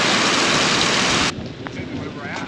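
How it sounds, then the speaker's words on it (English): Heavy rain hisses in a dense, loud wash that drops abruptly to a lighter, steady patter outdoors. "And it's still raining"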